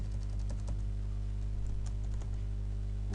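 Light keystrokes patter on a computer keyboard, a quiet run of scattered clicks over a steady low hum, with no talking.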